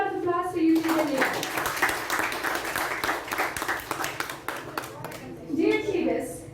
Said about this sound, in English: So please give a big round of applause for Youth Leader Leah.